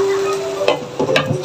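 Adobong sitaw, string beans in adobo sauce, gets stirred in a frying pan: soft sizzling under several short scraping clatters of a utensil against the pan, close and brief.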